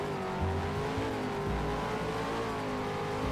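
A V8 car launching in a Roblox Taxi Boss drag race, engine droning loud and steady with rising revs and gear changes, heard alone with no talk.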